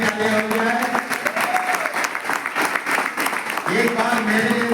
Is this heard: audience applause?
yes